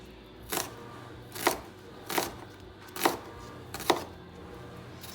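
A knife chops through a peeled, halved onion on a cutting board, five crisp, evenly spaced strokes about one second apart, close and clear with no talking.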